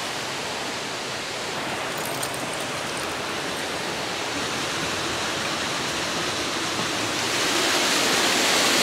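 Water rushing over steps in a mountain stream in the Black Hills National Forest, a loud, steady broadband roar close by that swells slightly near the end, with no voices.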